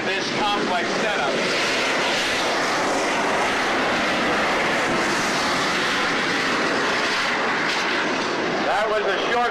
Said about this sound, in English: That was a short field takeoff by the Harrier, and I mean short field.